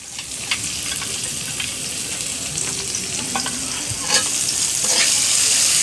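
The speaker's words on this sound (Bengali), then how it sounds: "এখন দিয়ে দিচ্ছি রসুন কুচি। দিয়ে দিলাম পেঁয়াজ কুচি এবং গোটা গোটা গরম মশলা।" Chopped garlic, onion and whole garam masala frying in a pan: a loud, continuous close-up sizzle with occasional clicks and scrapes of stirring.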